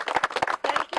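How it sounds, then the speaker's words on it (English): A brief, close round of applause with quick, steady hand claps from a modest audience at a community meeting. "So I think Julie deserves a round of applause for doing that."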